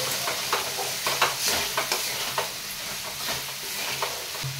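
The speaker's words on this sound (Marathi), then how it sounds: "आता हे तिखट मीठ थोडंसं 1 मिनिटभर या टोमॅटो कांद्यामध्ये परतून घेऊया." Tomato and onion with chili powder and salt sauté in a pan, a soft steady sizzle broken by repeated stirring scrapes, heard close and alone.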